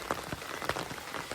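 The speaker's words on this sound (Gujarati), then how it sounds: "હાલમાં ફૂલ વરસાદ ચાલુ થઈ ગયો છે." Heavy rain falls over flooded farm fields in a steady, soft patter, with a few brief louder splashes. It sounds moderately distant and there is no talk.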